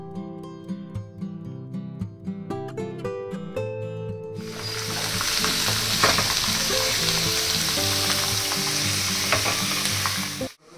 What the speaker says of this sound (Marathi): तर आता इथं कांदा आहे तो बघू शकता मी थोडासा छान असा परतून घेणार आहे